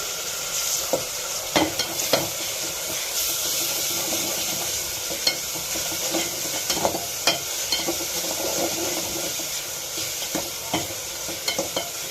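Tomatoes and onions sauté in a hot pan for a Tamil garlic curry (poondu kuzhambu), giving a steady close sizzle broken by repeated sharp stirring scrapes and clicks, with no talking.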